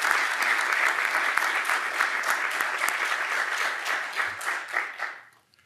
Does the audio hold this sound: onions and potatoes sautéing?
no